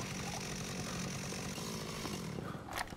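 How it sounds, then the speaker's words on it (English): A video game chainsaw runs with a continuous buzzing engine drone, loud and steady for the whole stretch, with no talking over it. "We got our chainsaw back."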